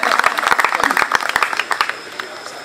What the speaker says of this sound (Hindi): आपकी भरपूर तालियों में सर मंजूर भुट्टा साहब